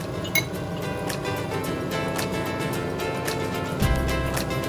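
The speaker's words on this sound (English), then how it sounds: "Stir, stir, stir." A utensil stirs cheddar cheese into a pot, giving faint scraping with occasional light clinks of metal against the pot over a steady background hum.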